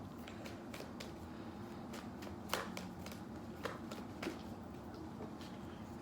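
Tarot cards being shuffled and drawn, a soft continuous riffle of card stock with several crisp snaps and slaps as cards are pulled and set down, close and quiet.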